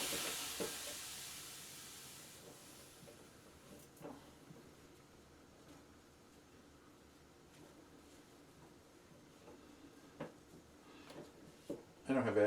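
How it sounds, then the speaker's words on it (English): Flux sizzles on a hot copper plumbing pipe during soldering, a faint hissing sizzle at first that fades, followed by quiet intermittent knocks and clatter near the end. "Yeah, see, listen to it sizzle."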